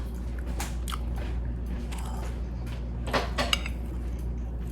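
Someone taste-tests a whipped fried egg, biting and chewing in a kitchen with faint clinks of dishes and cutlery and a steady background hum, and no talk.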